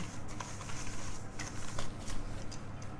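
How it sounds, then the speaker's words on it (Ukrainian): Butter and sugar are beaten together by hand with a whisk for chocolate cupcakes, giving a close, steady scraping and swishing with quick repeated strokes. "починаємо перемішувати масло з цукром"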